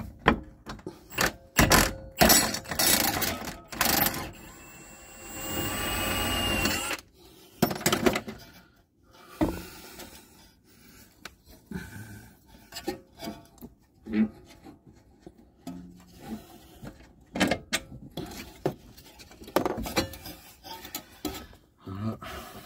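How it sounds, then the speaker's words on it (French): Bolt being unscrewed on the rear suspension arm at the subframe of a BMW E90, heard as harsh rasping and scraping bursts of metal on metal, loud and close, coming in irregular spells with pauses between. "Du coup je le dévisse au niveau du châssis, lui,"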